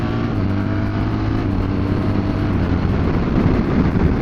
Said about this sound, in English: So we'll try the quick shifter now under stress.